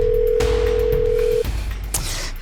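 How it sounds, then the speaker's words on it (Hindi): A steady telephone ringback tone sounds while a call is placed in a Hindi crime drama, one long even tone that cuts off partway, followed by faint room noise and a brief rustle. "फोन लगा बेटा, फोन लगा, इसे फोन लगा।"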